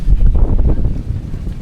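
Strong wind buffeting the microphone outdoors, a loud, low, rumbling gust that holds steady for under two seconds with no voices.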